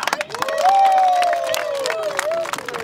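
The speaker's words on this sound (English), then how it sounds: "Can you clap for the mayor?" Schoolchildren and a crowd clap and cheer for the mayor at the end of a charity walk in Kabale, Uganda, with a loud sustained shout or cheer rising over scattered claps and babble.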